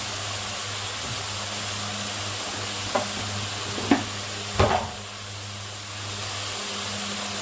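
Food sautéed with salt and turmeric powder sizzles steadily in a pan, a spoon stirring and scraping a few times against the cookware over a constant frying hiss.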